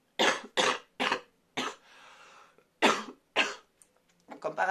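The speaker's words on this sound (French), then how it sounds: "je me mets à tousser" A burst of repeated harsh coughs, close and fairly loud, with a short breathy pause in the middle before a few more coughs.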